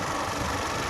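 Motorcycle engine with a punctured tyre running steadily, a continuous close rumbling drone with no break across the brief stretch.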